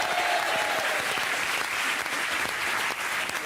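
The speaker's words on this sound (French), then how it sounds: "Applaudissements pour Camille." Steady applause from a TV studio audience on a French entertainment show, dense and continuous, filling the space evenly for a few seconds without talk.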